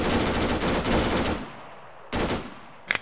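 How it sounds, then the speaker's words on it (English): Gunfire in the video game Arma 3, a rapid close burst of automatic shots lasting over a second, then a sharp single shot after a pause and a final quick crack, with no talk. "Shoot that rabbit!"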